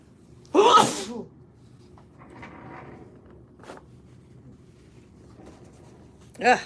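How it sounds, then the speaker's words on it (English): A single loud sneeze bursts out close by, followed by quiet room noise and a brief rustle, with another short sharp sound at the very end. "Okay, I'm gonna sneeze"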